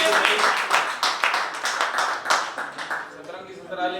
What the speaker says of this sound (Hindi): सतरंगी ससुराल इनकी और ताली बजाए